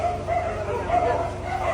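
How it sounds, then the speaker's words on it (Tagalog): A crowd of rescue dogs barks and yips excitedly, overlapping continuously and close by, with whimpers mixed in and voices talking faintly underneath. "Dami yung mga aso."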